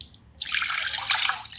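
Water pours in a steady, splashing stream that starts abruptly after a brief quiet moment and continues close up.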